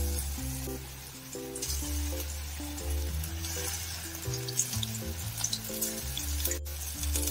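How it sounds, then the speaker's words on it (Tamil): Honey chicken pieces deep-frying in hot oil over a medium flame, a close, steady bubbling sizzle with occasional crackles and small pops, no talking. "இப்போ ஆயிலும் சூடாயிடுச்சுங்க, இதில் அப்படியே வந்து இதை போட்டு ஃப்ரை பண்ணி எடுத்துடலாம்."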